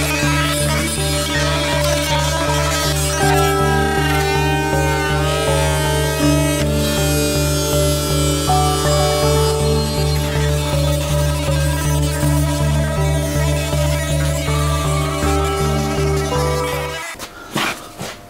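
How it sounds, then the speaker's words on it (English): A 2000-watt paint stripper heat gun runs steadily beside a Lotus Elise, a loud continuous motor and fan hum with a buzzing tone, close and unbroken for most of the clip before cutting off sharply near the end. "I'm going to use a paint stripper, a 2000 watt paint stripper, basically to heat up the front part"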